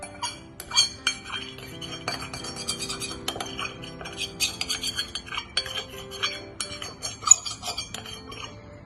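A dry metal spoon scrapes homemade kohl powder from a bowl, giving a run of close, light clinks and scratchy scrapes in an irregular rhythm, with no talking over it.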